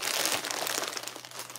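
Plastic packaging of a boutique clothing scoop being cut and handled, a close, continuous crinkling and rustling for a second or so without speech.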